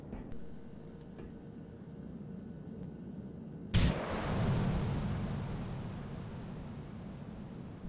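A single heavy bazooka blast in the video game GTA 4 booms out over a low rumbling background, followed by a roaring, crackling wash that slowly fades.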